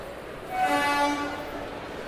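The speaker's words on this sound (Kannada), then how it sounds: "ಬ್ಯಾಕ್ ಟು ಬ್ಯಾಕ್ ಟ್ರೈನ್ಸ್ ಬರ್ತಾನೆ ಇರುತ್ತೆ" A train horn sounds a single tonal blast lasting about a second amid the steady background rumble of a busy railway station.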